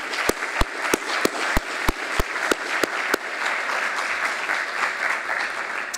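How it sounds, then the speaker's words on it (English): A round of applause from an audience at a climate change talk: a few loud, evenly spaced close claps ring out over a steady wash of crowd clapping that continues and slowly fades. "Please, a round of applause for them."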